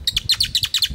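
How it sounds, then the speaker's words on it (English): Small birds chirp in a quick run of bright, repeated tweets, about seven or eight sharp calls within a second, close and clear with no talking. "Hello, birdies."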